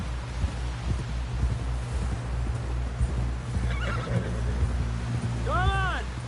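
A horse in Red Dead Redemption 2 whinnies loudly near the end, its neigh rising and falling, over steady galloping hoofbeats and wind, with voices talking in the background.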